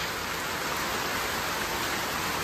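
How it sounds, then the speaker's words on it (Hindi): Heavy morning rain in Nainital pours down as a dense, unbroken hiss of falling water, loud and uniform throughout with no pauses or voices. "अब ये देखो नैनीताल की बारिश"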